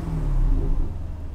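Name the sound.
Aston Martin DB11 Volante engine revving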